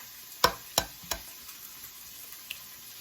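Egg fried rice hisses gently in a pan while a spatula stirs it, giving three sharp scraping knocks near the start and a few softer taps later under a steady faint sizzle.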